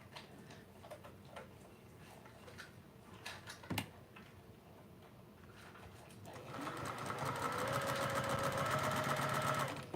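During a quilting session a sewing machine starts up and runs with a rising, steady mechanical whir and ticking, after a few quieter handling clicks and taps.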